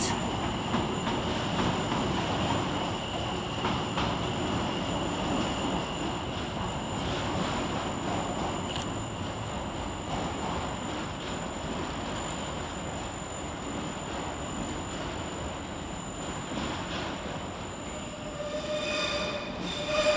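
London Overground 710 electric train departing London Liverpool Street station, a long steady rolling rumble with high-pitched wheel squeal and a sustained electric whine across the platform, continuous and fairly close.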